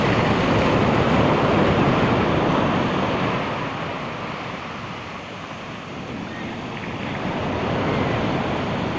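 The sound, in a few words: big ocean waves at Talolora Beach, Palapag, Northern Samar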